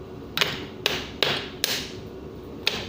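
A screwdriver taps against a leaking pump in five sharp, separate metallic knocks at uneven intervals, close and fairly loud, with no voices.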